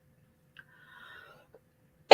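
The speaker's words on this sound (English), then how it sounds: "So, hold on. I got a cough." A single sharp, loud cough bursts out at the very end, following a couple of seconds of near quiet with only a faint, thin tone.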